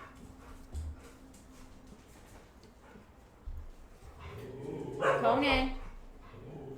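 A dog barks and yips close by, with a few short barks early and then a louder burst of whimpering barks near the end, while a person talks over it.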